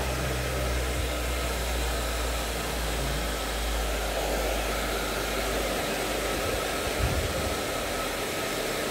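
A hair dryer blows steadily on hair during an at-home Brazilian keratin treatment, a constant close airy roar with no breaks for the whole stretch.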